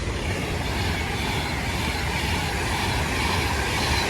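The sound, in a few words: Class 390 train departing Watford Junction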